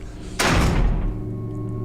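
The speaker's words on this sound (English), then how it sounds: "And it unlocks this door" A door unlocking in the Resident Evil Remake tunnels, a single heavy clunk and slam that rings out briefly over a low ambient hum.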